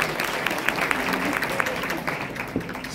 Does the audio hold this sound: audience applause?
yes